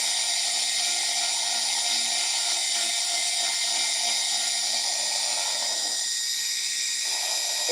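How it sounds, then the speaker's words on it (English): A Dremel rotary tool sands a bone guitar pick, a steady high-pitched whine holding loud and continuous throughout with slight dips in pitch as the tool bites the bone. "Probably actually would be faster with my flat sander, but I prefer using the Dremel."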